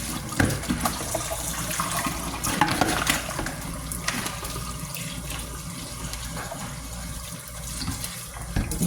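Water from a hand pump poso runs steadily over raw chicken being rinsed in a kitchen, a continuous splashing gush with small clatters, close and fairly loud throughout.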